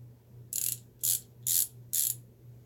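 A Harbor Freight ratchet wrench gives four evenly spaced bursts of fast, crisp clicking, close and clear against a faint steady hum, with no talking.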